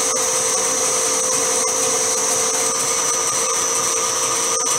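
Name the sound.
lathe parting off tool plunge cut on metal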